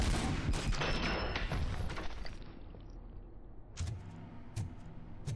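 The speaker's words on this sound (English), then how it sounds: "Is there another one shooting me?" Gunfire in the RoboCop: Rogue City video game: a dense, continuous fusillade of rapid shots and impacts, loud and close, easing into a few separate sharp bangs toward the end.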